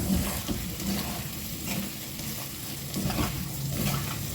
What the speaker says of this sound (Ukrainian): Смажимо на великому вогні все